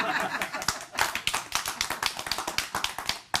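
A studio audience claps together in a brisk burst of many sharp, overlapping hand claps, loud and close, thinning slightly toward the end.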